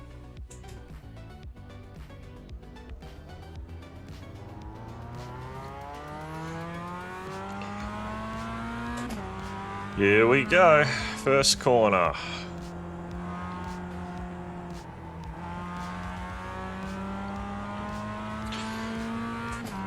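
Mazda MX-5 race car in iRacing at the Okayama circuit, its engine droning steadily and rising through the gears, with a brief louder burst of revving and downshifts into a corner midway; someone talks over it throughout.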